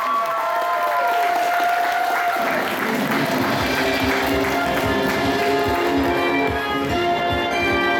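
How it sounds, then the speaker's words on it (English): Audience at an anime convention game-show panel applauding and cheering for a contestant, a loud, sustained roar of clapping with whoops and voices mixed in, steady throughout. "Come on, give me a round of applause, guys."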